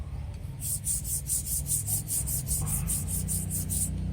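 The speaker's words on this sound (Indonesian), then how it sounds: "membersihkan karat-karat ini dengan mengasah agar tidak terjadi lubang-lubang halus, pori-pori yang dapat merusak ketajaman pahat kita nantinya" A carving chisel being sharpened to clear rust, with rhythmic back-and-forth scraping strokes at a steady pace, close up and without talking.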